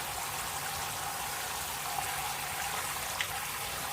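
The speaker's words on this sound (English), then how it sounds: "We're just rinsing out the last of the lanolin and the last of the dirt." Wool fleece is rinsed in clear water with no soap to clear out lanolin and dirt, giving a steady soft trickling, sloshing wash of water, faint and continuous with no voices.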